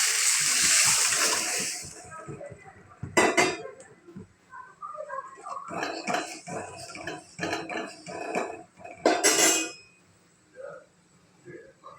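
A tomato mixture is poured into a pot of rasam with onion and dried red chilli, making bursts of splashing and gurgling liquid between quieter clinks. A voice speaks over parts of it.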